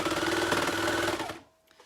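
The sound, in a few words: sewing machine stitching inner leg seam of boxers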